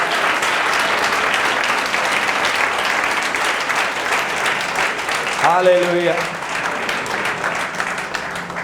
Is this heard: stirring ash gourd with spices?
no